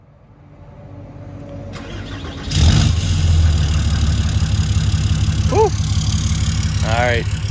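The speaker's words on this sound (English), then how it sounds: "It's cold out. Let's get a cold start" A hotshot truck engine cold-starting on a cold day: a starter cranks briefly before the engine catches with a loud roar and settles into a steady, rough close idle, with a voice speaking over it.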